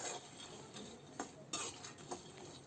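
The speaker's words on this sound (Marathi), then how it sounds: "स्लो गॅसवर शेंगदाणे भाजून घेते।" Peanuts dry-roasting in a kadhai over a slow gas flame and being stirred, a soft continuous rustling hiss broken by a few faint scraping clicks of the spoon.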